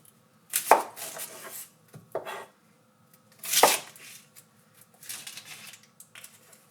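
A knife chops a yellow onion on a cutting board, giving a handful of separate crisp cuts with one heavier thud in the middle, close and alone with no talking.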